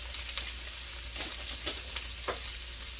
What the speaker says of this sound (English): This time we're getting good and hot. Get the onions and the carrots in there.